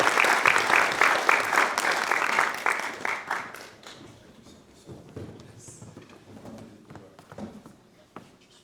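An audience at a keynote talk on AI and education claps loudly and steadily to welcome the speaker, the applause fading out after a few seconds into quieter room noise with scattered footsteps and faint talk.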